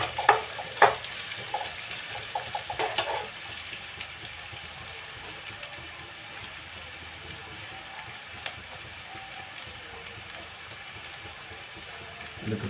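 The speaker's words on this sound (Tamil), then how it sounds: "முடிஞ்ச அளவுக்கு ஆனியன் வந்து கொஞ்சம் நல்ல ஒரு ரோஸ்ட் ஷேப்புக்கு அந்த கலர் வர வரைக்கும் பண்ணிவிடுங்க" Onions roasting in a pan for chicken gravy, sizzling steadily and close up, with a few sharp scraping stirs at the start, then an even, unbroken hiss.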